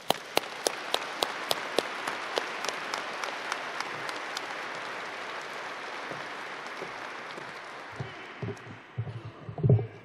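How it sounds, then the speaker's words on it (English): Audience applause at a military air mobility wing change of command ceremony, strong and dense at first, then thinning out and fading, with a few low thumps and shuffles at the end. "Let's give another round of applause for these two outstanding leaders on the stage and their families."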